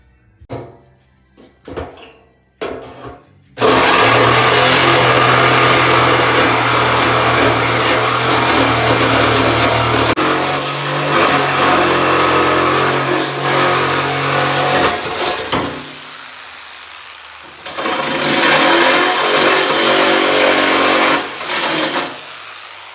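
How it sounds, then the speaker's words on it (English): An old-fashioned jigsaw buzzes loudly as it cuts a hole for a hidden fuel cell in a Buick Regal Winston Cup race car. Long continuous cutting runs come after a few knocks, with a pause before the last burst. "I'm probably gonna use a jigsaw, to be honest with you"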